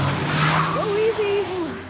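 A car pulls away with a rising engine note and a short tire squeal, fairly close and moderately loud, with no talk over it.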